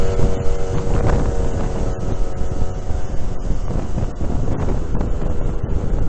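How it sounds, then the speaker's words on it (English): Loud, steady wind roar buffets a motorcyclist's helmet at riding speed on a wet road, a constant rushing blast with gusty fluctuations throughout. "Fair amount of wind noise licking around my head now."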